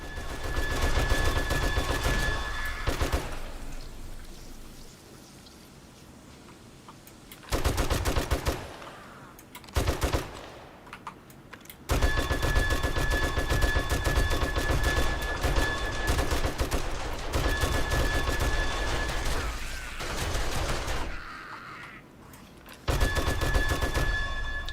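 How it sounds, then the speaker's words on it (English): Defensive turrets firing in the zombie-survival game 7 Days to Die: loud, sustained bursts of gunfire with a few short pauses, carrying on for most of the stretch over a steady game hum. "And turrets lending a hand up there, everybody."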